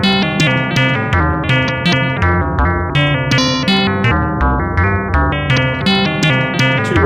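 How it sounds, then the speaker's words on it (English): An analog sequencer driving oscillators scans through two independent, asynchronous rates, producing a dense, continuous stream of bright, buzzy synth notes that shift pitch in an interlocking, slightly off-kilter pattern, loud and steady throughout. "the other to scan through at a different rate, which in this case is asynchronous to the first rate"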